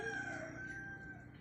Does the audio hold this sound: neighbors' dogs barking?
no